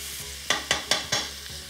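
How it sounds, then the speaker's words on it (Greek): Pieces of ewe leg are sautéed in a pan, giving a steady sizzle broken by four sharp stirring scrapes at a regular beat. "Σοτάρουμε λοιπόν και αυτά."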